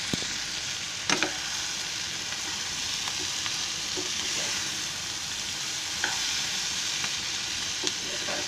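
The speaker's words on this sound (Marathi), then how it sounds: "भाजी कशी चरचरते बघा" Green capsicum bhaji sizzling and frying in a pan, a steady close hiss with occasional faint stirring clicks throughout.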